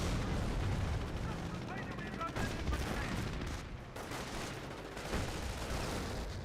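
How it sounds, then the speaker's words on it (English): Rifle fire crackles across a Company of Heroes battlefield in dense overlapping shots and thuds, a steady din of combat with voices partly buried underneath. "Taking rifle fire!"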